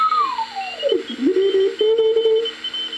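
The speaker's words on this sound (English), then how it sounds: "Then you tune it in for the loudest signal." BC-342N radio receiver tone sliding downward in pitch during tuning, then settling into a steady whistling beat note with faint static and background hiss.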